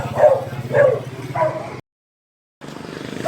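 Dogs bark in three loud, close, evenly spaced woofs, followed by a sharp cutoff into silence before a low background rumble resumes.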